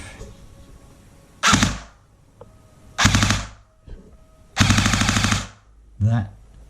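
An upgraded Jinming Gen 8 gel blaster, running metal gears on an 11.1 volt battery, fires four short bursts up close. Each burst is a harsh, rapid mechanical rattle with brief pauses between them.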